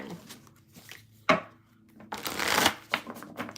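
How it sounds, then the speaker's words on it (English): A deck of tarot cards is shuffled close by, with soft riffling and slapping bursts, one sharp snap, then a longer rushing riffle and a few lighter taps. "I am going to shuffle and we will move on to Capricorn."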